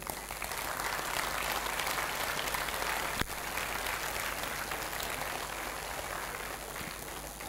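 An audience at a 50th birthday celebration applauds in a steady, dense wash of clapping that holds at an even, fairly soft level for about seven seconds, with one sharper clap standing out midway.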